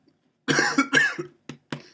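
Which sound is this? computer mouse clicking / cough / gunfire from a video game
cough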